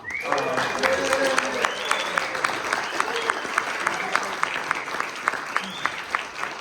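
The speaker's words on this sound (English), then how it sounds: "I want to give a round of applause to Miss Emily" An audience applauds in a room, with distinct individual claps standing out over a steady bed of clapping, while people also call out and talk over it at moderate loudness.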